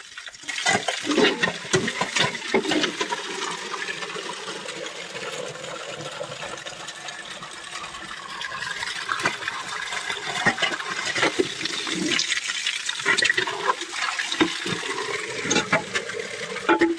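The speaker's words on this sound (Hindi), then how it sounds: "तो यहाँ पे जो है हम भर लेते हैं पानी।" Water running from a household tap into a container in the morning, a continuous close splashing gush that shifts in tone as it fills, with no talking.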